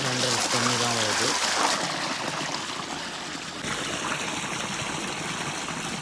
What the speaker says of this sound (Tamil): இதில் 2 இன்ச் தண்ணி தான் வருது.